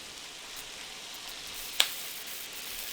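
Garlic sizzling in a pan, a soft, steady hiss held at low level throughout with one brief sharp pop near the middle.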